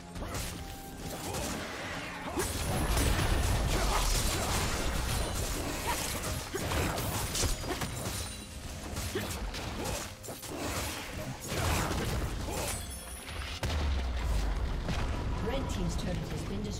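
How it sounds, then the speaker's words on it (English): Crashing impacts, whooshes and rumbling blasts from a League of Legends teamfight around a turret pile up over seventeen seconds, with a game announcer's voice speaking during the chaos. "Red team's turret has been destroyed."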